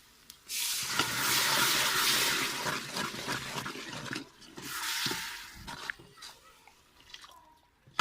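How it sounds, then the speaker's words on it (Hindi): Water splashes and pours steadily into a cooking pot of spiced dal, with a hissing rush that pauses briefly and resumes, close by. "अभी थोड़ा पानी लगाएंगे।"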